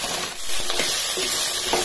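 Eggplant pieces frying and softening in hot oil in a pan for a quick coconut-free curry, a loud steady sizzle close up, with a few faint stirring scrapes and no talking.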